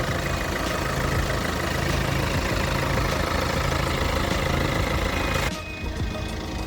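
A Kia Sorento 2.2 diesel engine idles steadily with a low, constant rumble heard close up in the open engine bay, dropping slightly quieter near the end.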